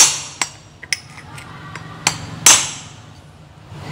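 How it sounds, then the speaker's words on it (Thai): Hammer blows driving out a chainsaw flywheel: several sharp metallic strikes at irregular intervals, close and loud against a quiet background. "ตอกบริเวณด้านที่ไม่ใช่แม่เหล็กนะครับ"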